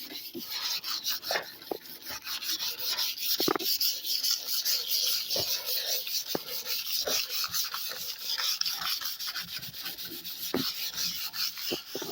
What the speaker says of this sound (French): Bon, on va continuer le ponçage